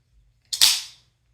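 A single sharp clack from a titanium, plastic and steel LDY balisong butterfly knife being flipped, one crisp loud snap in near silence.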